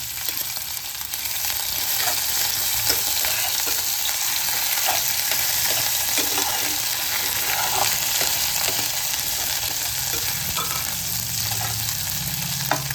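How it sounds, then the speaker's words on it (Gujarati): Ginger, garlic and chili paste frying in a pan, a dense, continuous sizzle heard up close with faint stirring scrapes and clicks, steady throughout and free of speech. "આમાં આપણે આ પેસ્ટ ઉમેરી દઈશું, આદુ લસણ ને મરચીની."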